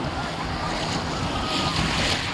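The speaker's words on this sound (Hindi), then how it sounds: "ये एक लहर और आई हमारे पास और हमको भिगा के गई है" Bay of Bengal surf breaking on Digha beach, a steady, loud wash of waves with wind buffeting the microphone throughout and a swelling surge toward the end.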